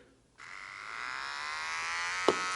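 A Remington rechargeable beard trimmer switches on and its small motor whirs up into a steady high buzz that climbs slightly in pitch, close and fairly quiet, with a brief click near the end.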